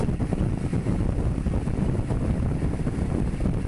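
Steady, loud, cold wind buffeting with a constant low roar, no voices, unbroken for the whole stretch, beside a road in Germany.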